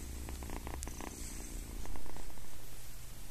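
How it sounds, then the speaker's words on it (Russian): A kitten purrs while lying in someone's arms, a close, steady rumbling purr with a soft rhythmic pulse that swells slightly midway, with no talking over it. "мурчит здесь у меня на руках."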